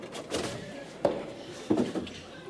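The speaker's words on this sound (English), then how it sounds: "just close this door." A door is shut indoors in a sitcom scene, with a thud near one second and another knock-like impact around 1.7 seconds, a voice talking around the sounds.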